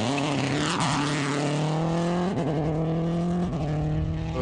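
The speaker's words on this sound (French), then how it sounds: "Nous sommes en caméra embarquée avec Eric Brunson, le Normand." Onboard a rally car at the Rallye du Touquet: a loud engine drones and revs close up, the pitch sweeping up and down through gear changes. The roar is continuous and fills the cabin.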